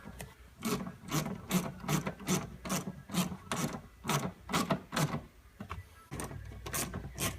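Coarse-threaded screws being driven into a plastic clutch cover on a 2015 Polaris Ranger 900XP, a steady run of about a dozen evenly spaced grinding, rasping strokes, close and moderately loud.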